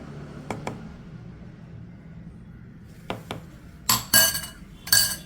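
Ground beetroot being moved from a blender jar into a bowl, heard as a few sharp clinks and knocks of utensil against jar and bowl, sparse at first, then a louder cluster of scraping clatters near the end.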